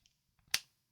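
A PlayStation Barracuda controller's analog stick springs back to center on its own, giving a single sharp, close snap with a few faint ticks just before it, in an otherwise quiet room.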